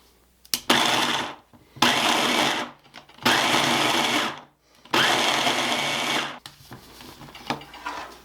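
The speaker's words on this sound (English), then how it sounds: "we're going to pulse this with our food processor until we get little beads of flour and butter together" Food processor pulsing flour and butter for a cherry pie crust, four loud whirring bursts of about a second each separated by short pauses, then quieter rattling.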